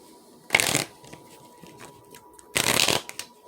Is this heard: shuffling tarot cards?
yes